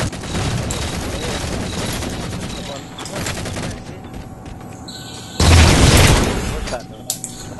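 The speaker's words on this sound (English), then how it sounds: "somebody shooting from my right" Rapid gunfire and grenade explosions from Halo 4 multiplayer team doubles, with dense bursts of shooting and a loud blast about two-thirds through, while a player talks over the action.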